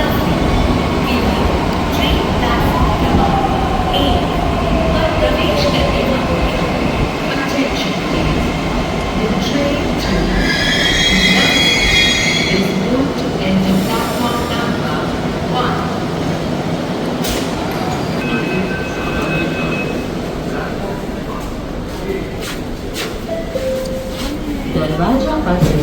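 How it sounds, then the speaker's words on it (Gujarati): A Mumbai Metro train pulls into the station, a loud steady rumble with a rising whine and a brief high squeal midway, while people talk over the noise throughout. "મારી ટ્રેન છે ને આ બાજુથી આવશે અને આવી જ રહી છે"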